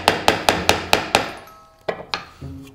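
A hammer drives a small nail into wooden boards with six quick, evenly spaced loud strikes, then a brief pause and three more blows, each ringing sharply and close with no talking.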